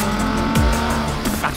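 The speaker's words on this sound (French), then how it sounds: "Et quelle sonorité que ce V10!" An Audi R8 Spyder 2017 with a V10 engine driven hard, its loud, steady engine roar rising and falling as it accelerates and shifts, with a brief sliding pitch drop midway, close and continuous throughout.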